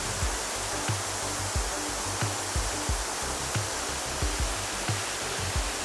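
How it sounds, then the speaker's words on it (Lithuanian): Water rushes steadily past a ruined water mill, a constant broad hiss of flowing water, with faint regular knocks recurring beneath it. "Apgriuvęs vandens malūnas."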